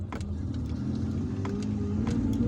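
Car driving slowly through an apartment complex with palm trees in Algiers, a steady low engine and road rumble close by with a few faint higher noises passing over it.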